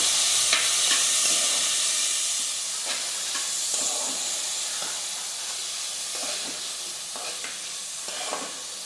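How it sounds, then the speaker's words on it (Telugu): Boiled banana stem pieces stirred into a tempering in a pan, a steady close sizzle and hiss broken by repeated scraping stirs. "నేను అరటి దూట ఉడికించిన అరటి దూట ముక్కలు వేస్తున్నాను. వేసి బాగా కలిసేలా కలపాలి."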